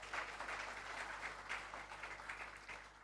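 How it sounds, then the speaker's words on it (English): Faint, distant audience applause fills a hall at a regional awards ceremony, a steady wash of clapping with no voices over it. "round of applause, yes, feel free."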